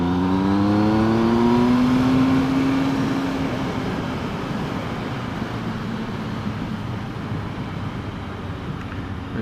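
Triumph Speed Triple R motorcycle engine pulling hard under acceleration, a loud, close rising engine note that sweeps upward over the first few seconds, then settles into a steady, smooth drone with wind rush.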